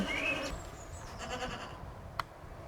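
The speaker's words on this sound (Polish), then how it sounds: "Tak, kupiłem kozy. Są tu." Goats bleating: a few wavering, nasal calls early on, moderately near, over quiet outdoor background noise, followed by a short sharp click.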